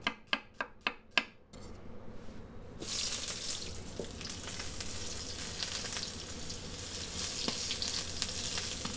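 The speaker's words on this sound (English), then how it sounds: "Touch of oil. We're going to go straight in with some white onion." A few sharp knocks come first, then white onion hits hot oil in a pan with a sudden, steady sizzle and frying hiss that continues with light stirring and no talk.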